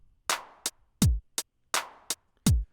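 A sparse 909-style drum machine pattern repeats twice: booming kick thumps alternate with snappy snare and hat hits in a slow, even rhythm.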